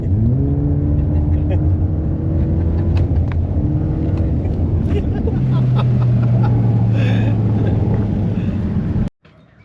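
A Subaru car pulls away and accelerates down a street, its engine rumbling loud and close with rising, shifting harmonics over about nine seconds before cutting off abruptly.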